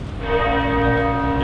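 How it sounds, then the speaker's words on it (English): Church bells toll at an Occupy LSX tent city protest camp in London, their sustained ringing tones steady and fairly loud, with no talk over them. "For whom the bell tolls, yeah."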